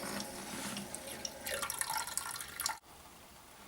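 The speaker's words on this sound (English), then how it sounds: "I just let that drip a little bit." Water running and dripping off washed cloth menstrual pads into a toilet, a steady trickle with splashes that stops abruptly near the end, leaving quiet.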